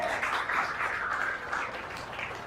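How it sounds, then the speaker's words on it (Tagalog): Scattered audience applause at a church service, a thin, diffuse patter of clapping that stays fairly quiet and steady throughout without any voices. "Parang ang hina ng palakpak nyo,"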